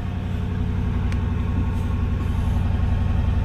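Ford Crown Victoria V8 idling with its stock exhaust before a rear catalytic converter delete, a steady low rumble that holds even and continuous with no revving, heard close by in cold outdoor air.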